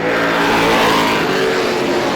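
Race cars roaring around a short oval speedway in an outlaw feature, a loud continuous engine drone with shifting revs as cars battle for position, close and unbroken, with no talk over it.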